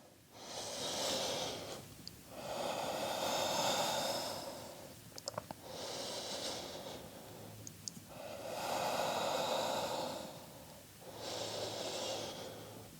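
Slow, deep yoga breaths alternate in long, even inhales and exhales, four or five smooth airy cycles close to the microphone with short pauses between them.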